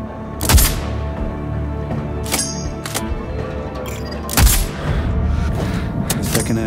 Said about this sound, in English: Explosion heard.